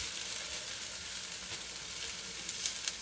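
Cauliflower rice sizzles steadily in a hot frying pan, a bright continuous hiss with a few small crackles and pops near the end and no talking.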